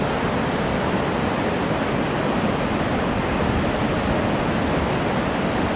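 Rushing water of the Menominee River through Piers Gorge in Upper Michigan, a loud, constant broadband roar of rapids with no pauses, close and unchanging throughout.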